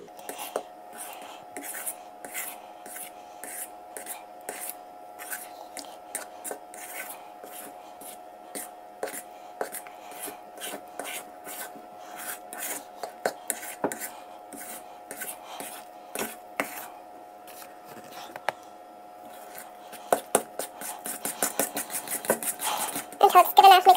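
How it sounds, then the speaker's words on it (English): A utensil stirs and folds banana bread batter in a bowl, giving soft, repeated scraping and tapping strokes that come steadily throughout, faint and close, and grow a bit louder and faster toward the end. "So we just gently stir this in, and I like to use a folding motion."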